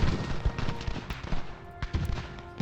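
Musket fire and artillery crackle through a large battle in Ultimate General: Revolution, a rapid, irregular string of sharp pops and heavier booms, loud and close.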